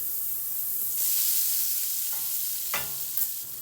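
Unsalted butter melts in a hot pan for beef stroganoff, giving a steady soft sizzle and hiss with a few brief scraping clicks from stirring; no voices.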